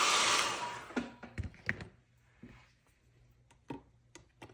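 Hair dryer blowing on a mixed media artwork, loud and broadband for about a second, then cut off, followed by scattered clicks and light taps in a quiet room.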